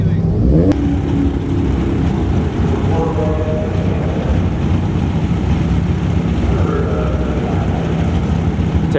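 Engines rev and accelerate loudly and continuously at a track race between a Honda Civic and a Corvette, a steady roaring drone throughout with voices faintly mixed in.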